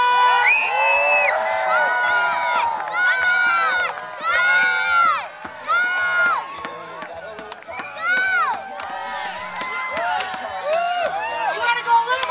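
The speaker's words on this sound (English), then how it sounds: "and cheer them on!" A crowd at a lumberjack show cheering and whooping, with high excited shouts and children's voices rising and falling in bursts, loud and close, continuing for the whole stretch.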